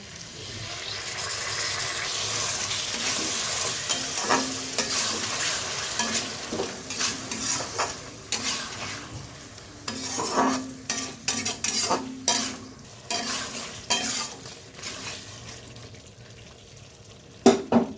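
Tomato paste stirred into a pan of frying masala of cumin powder, chilli powder and a little sugar for rohu fish roe curry, with steady sizzling, a spoon scraping the pan and clinking intermittently, close and with no talk.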